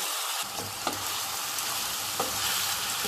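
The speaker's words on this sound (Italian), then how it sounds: "Vedete come sfrigola l'olio perché la fiamma è altissima" Oil sizzles steadily in a pan over a very high flame while cooking a filling for a stuffed focaccia, a continuous close crackling hiss with a few brief sharper pops and no talking.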